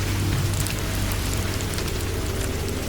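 Steady rain falls at night beside a paddy field in a Bengali horror cartoon, a dense, even patter with a low rumbling bed that runs unbroken and fairly loud throughout, with no voices.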